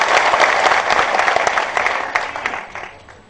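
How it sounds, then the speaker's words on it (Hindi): Audience applause at a Madhya Pradesh political gathering with a national BJP leader, loud sustained clapping from a large crowd that gradually thins and fades toward the end. "आप भी तालियां बजाकर स्वागत कीजिए।"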